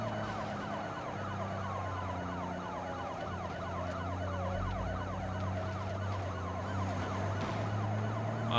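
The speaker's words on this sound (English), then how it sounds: "how that siren's still working" A police car siren in the BeamNG driving game wails in a fast repeating up-and-down sweep over a low engine drone, loud and steady through a chase after ramming police cars.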